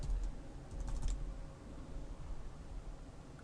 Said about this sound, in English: type in our password again